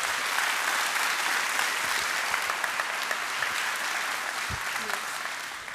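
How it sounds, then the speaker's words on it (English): Loud, sustained applause from a large audience at a BLET Class 79 law enforcement academy graduation, dense steady clapping filling the room for several seconds. "Let's give them a big round of applause for their hard work."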